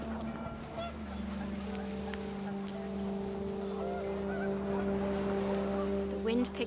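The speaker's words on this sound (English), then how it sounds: "The wind picked up, and panicked geese appeared and quickly went." Panicked geese honk in the video game What Remains of Edith Finch, a few scattered calls over a steady windy, humming background.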